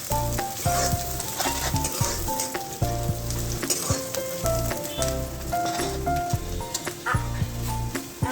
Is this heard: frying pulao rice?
yes